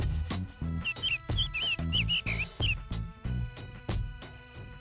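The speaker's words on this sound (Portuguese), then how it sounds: "pintinho," A chick peeps in quick high chirps, a handful of short calls over a steady background of rhythmic music.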